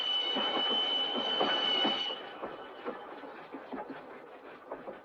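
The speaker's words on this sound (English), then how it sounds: "the train doesn't stop at Tucumcari." A train rolls steadily along its rails with a continuous rumble, rhythmic wheel clicks and a high steel squeal that fades after a couple of seconds, moderately distant with no talking.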